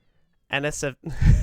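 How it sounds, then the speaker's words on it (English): A pet cat meows outside a room, giving a short two-part call and then a longer, lower yowl, close and clear with no talk over it. "My cat is outside my room."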